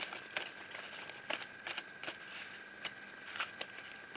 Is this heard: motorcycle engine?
no